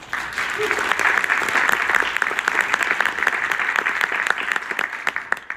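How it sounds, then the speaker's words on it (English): An audience at a school board awards presentation applauds, a full round of dense clapping that swells early and holds steady before thinning slightly. "Let's give her a round of applause"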